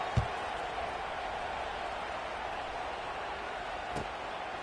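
Stadium crowd noise in the NCAA 26 college football video game, a steady dense wash of distant roar after a score, with no talk.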